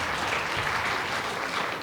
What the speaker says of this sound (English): And applause for this was a hard question.